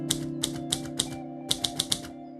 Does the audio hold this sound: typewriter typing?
yes